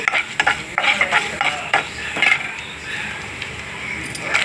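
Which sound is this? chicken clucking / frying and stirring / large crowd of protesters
frying and stirring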